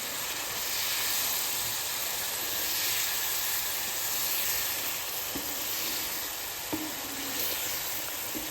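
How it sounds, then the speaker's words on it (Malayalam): Four tablespoons of vinegar boil in a pan for a lime pickle, giving a steady, soft hiss and sizzle with a few faint clinks near the end. "വിനീഗർ തിളച്ചു"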